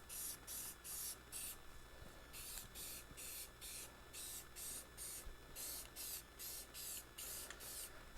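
Rhythmic bursts of paint spraying from a nozzle, each hiss a second or less with short gaps, repeated steadily at moderate distance with no talking.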